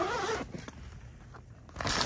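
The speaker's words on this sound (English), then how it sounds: "The zipper is quite noisy." Zipper on the door of a wildlife photography blind being pulled, a close rasping zip at the start and again near the end with quieter rustling between.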